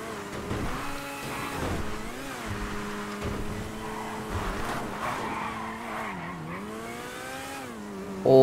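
Tires squeal as a vehicle in the bike class spins a full 360 in GTA V, a loud sustained screech sweeping up and down in pitch over engine noise for several seconds.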